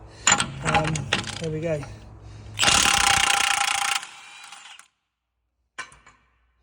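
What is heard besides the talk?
undoing wheel bearing centre nut on car hub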